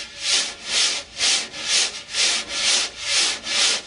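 Drum brushes held too tightly and swept across a drum head, giving a harsh rhythmic swishing in eight even, close strokes, each a bright scraping rub.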